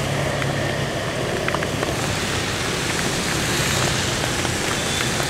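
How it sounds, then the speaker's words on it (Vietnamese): Rain falls on a Saigon street on 3 Tháng 2 road in District 10, a dense, steady hiss of water mixed with traffic noise, continuous and fairly loud. "Cô bác anh chị nghe âm thanh của tiếng mưa rơi không?"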